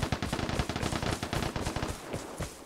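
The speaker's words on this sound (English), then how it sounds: "we hear gunshots that sound like popcorn going off in the oven" Rapid bursts of automatic gunfire crackle in the video game Vigor, a dense volley of close shots that thins out toward the end into a few scattered pops.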